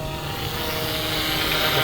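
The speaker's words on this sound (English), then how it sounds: "This is one of those helicopters that just sounds mean." An Eachine E160 RC helicopter flies nearby with a steady, loud whining rotor and motor drone that holds constant throughout.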